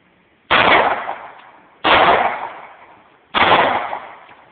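Three loud, close .40 S&W pistol shots fired from a Lynn Ray Nemesis handgun, evenly spaced about one and a half seconds apart, each a sharp crack trailing off into a short decaying echo.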